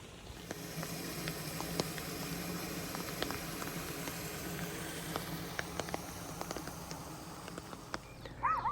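Heavy rain pours onto a street while water runs along the roadside, a continuous hiss with scattered close drips and patters, fairly quiet and steady throughout.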